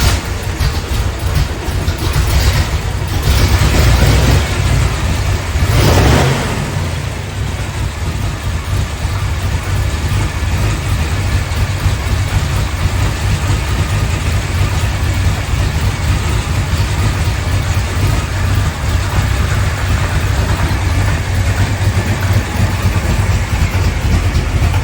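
An old car's engine turns over, catches with a louder burst of revving, then settles into a steady, rumbling idle that carries on at close range.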